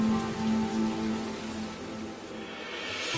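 Steady rain falls on surfaces in an even hiss, with a low hum running beneath it and no voices.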